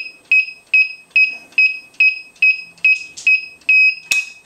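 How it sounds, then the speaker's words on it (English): A string of ten short, sharp electronic beeps from a radio control transmitter's trim at a steady rhythm, close and loud, with one final longer, harsher beep marking neutral trim. "You hear the longer trim beep at neutral, so that's neutral trim."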